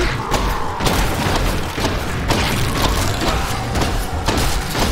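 Grenade explosions in Diablo III's Imprisoned Angel area, a dense run of booming thuds and bursts layered over constant combat noise, close and loud with no clear gaps.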